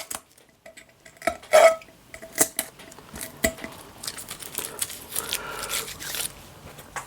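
Metal screwdriver prying the lid of a Dulux UniPrimer paint tin, sparse metallic clicks and scrapes with a sharper pop partway through, close and fairly quiet.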